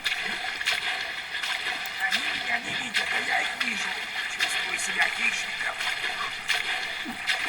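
Rowing a boat in Far Cry 5: repeated paddle splashes and sloshing water in the game, moderately loud, with a voice talking over parts of it.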